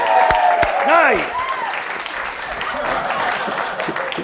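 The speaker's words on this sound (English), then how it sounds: "give him a round of applause" An audience applauds after a trick at a live show, a dense wash of clapping from a crowd nearby, with a voice speaking over the start before the clapping carries on alone.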